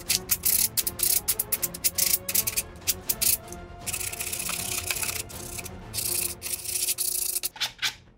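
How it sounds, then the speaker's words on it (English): Leather is sanded by hand with rough sandpaper for a post-apocalyptic costume, a close scratchy rasping in rapid back-and-forth strokes with brief pauses, loud and alone. "This is pretty rough sandpaper."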